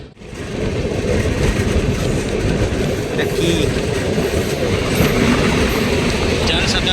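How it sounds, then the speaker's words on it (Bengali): The Bhubaneswar–Howrah Jan Shatabdi Express passes at a signal in a loud, continuous rush of wheels and carriages with faint clatter, while a voice speaks briefly over the din. "ভুবনেশ্বর হাওড়া জনশতাব্দী এক্সপ্রেস"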